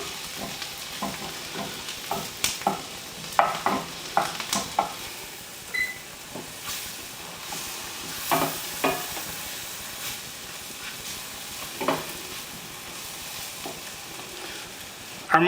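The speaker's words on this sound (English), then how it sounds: "Our mushrooms are all nice and sauteed as well as our shallots." Sliced mushrooms and shallots sauté in a hot pan with a steady soft sizzle, broken by repeated scraping and stirring taps from a utensil, with no talking.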